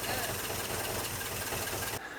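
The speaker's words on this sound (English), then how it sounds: "it was time to start the engine and see if our time and money was well spent" A van engine with a freshly rebuilt carburetor runs steadily in a continuous mid-pitched idle with some knocking vibration, close and fairly loud, then drops off abruptly near the end.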